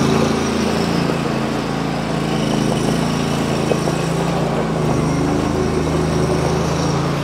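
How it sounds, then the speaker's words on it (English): A 2012 Snapper Pro S200XT zero-turn lawn mower with a 61-inch deck and a 27HP Kohler engine runs nearby with a steady droning idle, a slight pitch shift partway through and no speech over it. "I'm going to fire it up here, run it, show it does everything it's supposed to do."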